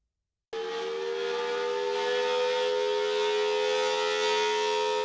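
A civil defense tornado siren starts abruptly after half a second of silence and then holds a loud, steady wailing tone with no voices over it.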